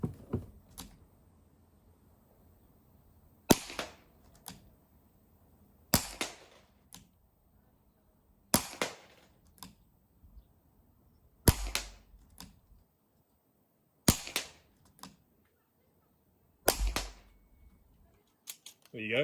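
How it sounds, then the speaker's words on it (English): Umarex Legends S25 air revolver fired at a one-litre milk carton 21 meters away: six sharp cracks spaced a few seconds apart, each followed by a fainter hit or click, with quiet stretches between. "So I'll be perched up on this deck, shooting at 21 meters away."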